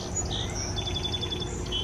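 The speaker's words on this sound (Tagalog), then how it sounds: "Ang huni ng mga ibon." Birds chirp and tweet in a rapid series of high, thin calls over a low outdoor rumble, with no one speaking.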